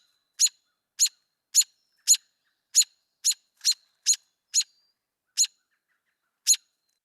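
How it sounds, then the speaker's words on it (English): American robin call notes, a series of eleven short sharp chirps spaced about half a second apart, then slowing with longer gaps, clear and isolated against silence. "And now the call notes of the American robin."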